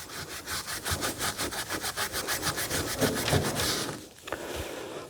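A Scotch-Brite pad scuffs back and forth along masking tape in fast, even rhythmic strokes, close and raspy, before a brief pause and a couple of softer rubs during cerakote prep.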